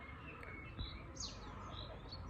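Faint birdsong drifts across a quiet outdoor fishing spot by the water: scattered high chirps and tweets over a soft insect hum, distant and gentle, with no one talking.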